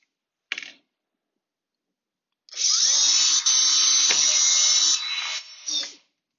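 A short drill burst, a pause, then a longer high-pitched whir of a drill boring small holes through PVC pipe, ending with a brief final spin.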